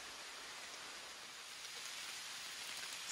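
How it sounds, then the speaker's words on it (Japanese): Steady rain falls in a misty beech forest on a mountain trail, a soft continuous hiss of drops on leaves, even and fairly faint throughout with no voices. "ブナの林の中はそれほど雨が落ちてくる感じはないんですけど、なんか雨音が気持ちいいです"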